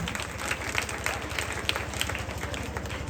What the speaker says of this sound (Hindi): जरा आप लोग तालियों से इस्तकबाल करते हैं मौलाना साहब को।